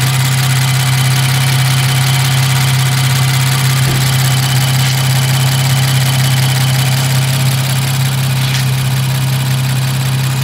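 A 2018 Infiniti Q60 with about 37,000 miles sits idling close by, a steady, even engine hum with a constant low drone and no revving, continuing unbroken for ten seconds.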